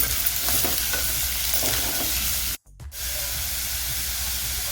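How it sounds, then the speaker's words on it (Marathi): Two medium onions, finely chopped, go into a hot pan where garlic has turned golden, setting off a loud, steady sizzle and hiss that drops out briefly before resuming. "मी दोन मिडियम साईजचे कांदे बारीक चिरून घेतलेले ते टाकते"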